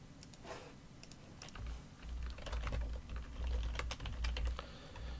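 Keys clatter in quick, uneven bursts as switch configuration commands are typed on a computer keyboard for a Cisco Catalyst VLAN and trunk lab, close and fairly quiet, with no talking.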